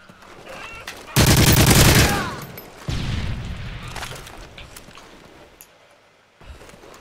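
Automatic weapon fire in Call of Duty MW3, free-for-all match: a loud sustained burst of rapid shots, a pause, then a second long burst that trails off, with game ambience between.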